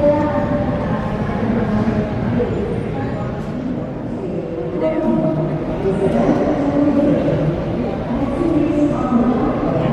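A feeder train departs Padalarang KCIC station with a continuous loud, rumbling roar and faint tonal whines rising and falling, heard from close on the platform.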